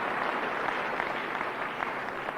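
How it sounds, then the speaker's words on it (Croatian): Sustained applause from an audience at a business event honoring business leaders, a steady dense wash of clapping filling the whole stretch at even loudness. "They deserve this applause"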